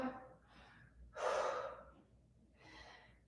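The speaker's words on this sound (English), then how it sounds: "Inhale, one more time." Deep breaths drawn in and let out during a stretch in a single-kettlebell full-body workout, a sharp audible inhale followed by a softer, airy exhale, close and fairly quiet.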